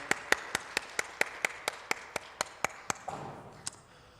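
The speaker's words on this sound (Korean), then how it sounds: "하나님께 영광의 박수 올려드리겠습니다." A handful of people in a church service clapping in a slow, even rhythm, about fifteen distinct faint claps spaced roughly a quarter second apart, fading near the end.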